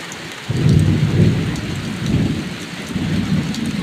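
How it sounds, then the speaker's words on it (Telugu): Heavy rain pours steadily with rolling thunder, loud and close, rumbling in repeated swells beneath the constant downpour. "ఆహా, వర్షం భలే ఉంది"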